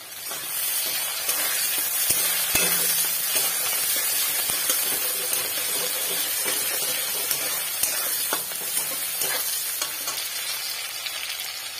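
Tomatoes and onion sizzle steadily in hot oil in a pan for a Bengali silver fish curry, a continuous close, loud frying hiss broken by occasional stirring clatter, with no talking.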